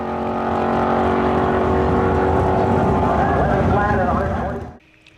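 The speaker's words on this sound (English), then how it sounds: "Dean got a chance to take the 72 Plymouth Duster down the quarter-mile track at Beaver Springs, Pennsylvania" A 1972 Plymouth Duster drag car roars loud and steady down a quarter-mile track at Beaver Springs, Pennsylvania, its engine pitch climbing through the run before cutting off abruptly near the end.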